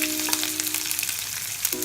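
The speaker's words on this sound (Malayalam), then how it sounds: "ഇപ്പം നമുക്ക് ഈ പച്ചമുളക് ഉള്ളി ഒന്ന് വഴറ്റിയെടുക്കാം" Onion and green chilli sautéing in hot oil in a pan, a brief bright sizzle that stays steady and close, with a faint tonal hum underneath and no talk.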